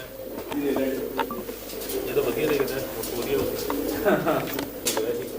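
Pigeons of a long-flying breed cooing in a loft, soft repeated throaty coos layered and continuous over a steady ambient hum, with people talking nearby.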